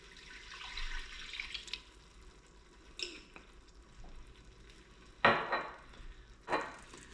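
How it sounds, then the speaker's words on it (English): Clam juice from an 8-ounce bottle poured into a pan, a soft liquid splash and sizzle with two sharper bursts near the end, close by with no talking. "Just pour it in there."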